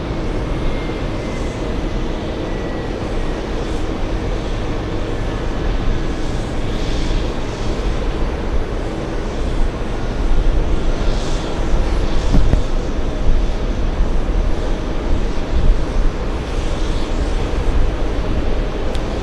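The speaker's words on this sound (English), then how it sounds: "big 777 freighter" A Boeing 777 freighter roars at JFK airport, a broad sustained engine rumble swelling gradually and peaking mid-way, mixed with wind noise.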